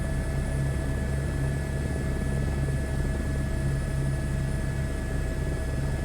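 Helicopter approaching a helipad for landing in a flight simulator game, a steady loud rotor and turbine drone with a constant whine, unbroken and without talk.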